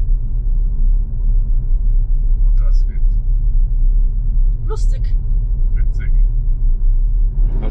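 A car drives the winding Petrohan Pass road in Bulgaria, with trucks climbing the same route. A steady, loud low engine and road rumble runs throughout under a man's speech.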